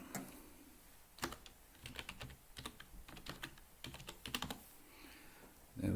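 A computer keyboard clatters as a Wi-Fi password is typed during a software setup on an x86_64 machine: uneven bursts of crisp keystrokes with short pauses, close and fairly quiet, with no voices.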